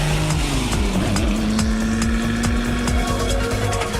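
A Ferrari 250 GTO engine roars loudly and continuously at high revs, its pitch climbing and rasping with a harsh, ripping edge close by.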